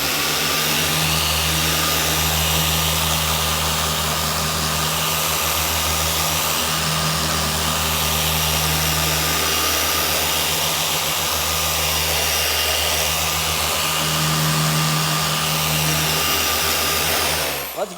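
Detailing car polisher, compared against a Maxshine M15 Pro and a Griot's 6-inch, running at speed 3 with a steady loud motor hum and whine held continuously for about seventeen seconds before cutting off.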